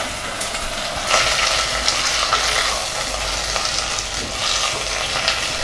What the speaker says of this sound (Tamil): லைட்டாக நம்ம வதக்கிக்கலாம்.